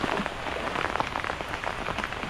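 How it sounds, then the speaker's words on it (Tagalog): Steady rain falls outdoors, a dense, even patter that fills the whole clip at moderate loudness with no voices over it. "tapos may ulan pa"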